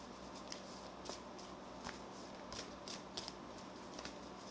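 Tarot cards being shuffled by hand, a faint, soft papery riffling with light repeated clicks and flutters at irregular intervals, quiet and close with no talking.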